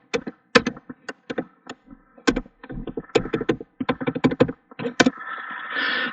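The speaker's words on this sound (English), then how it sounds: "Let me just type it here." Keys on a computer keyboard are typed in an uneven burst of sharp, close clicks and taps, clustered in quick runs with short pauses, followed by a brief soft rushing noise at the end.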